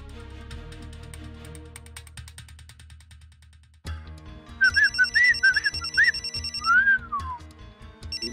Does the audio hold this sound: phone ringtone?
yes